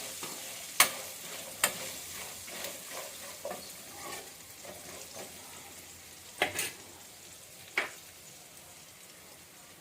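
Curry leaves and ginger frying in a pan, a soft steady sizzle punctuated by several sharp utensil scrapes and taps as they are stirred.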